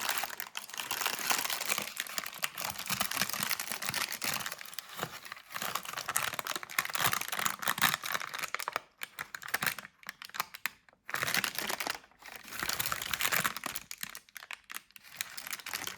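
Crinkly paper being peeled off a stamped candle makes a dense, continuous crackle of close, crisp crinkling that runs steadily, with a few brief pauses near the end.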